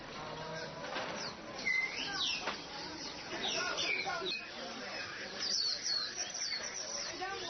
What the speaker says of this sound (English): You've got birds kind of chirping everywhere.